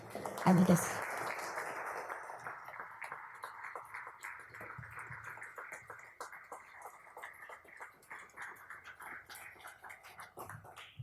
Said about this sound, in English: deserve an enormous round of applause